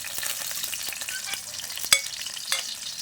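Onion, garlic and ginger frying in hot oil in a pan for a crab dish, with a steady close sizzle, light stirring scrapes and a couple of sharper utensil clinks.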